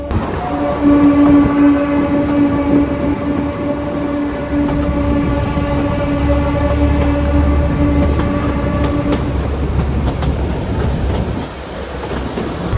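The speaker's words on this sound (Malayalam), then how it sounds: "ലോക്കോ പൈലറ്റ് ഇങ്ങനെ ഹോൺ അടിച്ചടിച്ച് ഇറങ്ങുന്നേ." A train horn sounds in long sustained blasts over the steady rumble and clatter of a train descending on the Kangra Valley Railway between Baijnath and Joginder, loud and close throughout.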